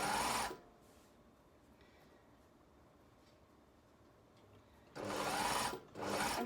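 A sewing machine runs in two short bursts, stitching a seam along a fabric edge on flared garment pieces, loud and close, with a quiet pause between them and no talking.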